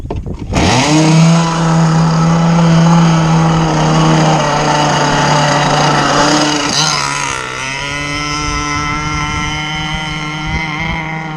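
A Zenoah 30cc two-stroke engine that is being troubleshot runs loud and steady at high revs, then its pitch drops partway through and it keeps droning at a lower speed.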